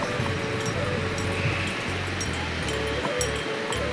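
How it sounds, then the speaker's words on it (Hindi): A river rushes out from beneath a thick snow glacier near a cave on the Amarnath Yatra route, its steady broadband roar of flowing water filling the scene, close and continuous, with no talking. "देखिए गुफा के पास ग्लेशियर्स के नीचे से नदी निकल कर आ रही है।"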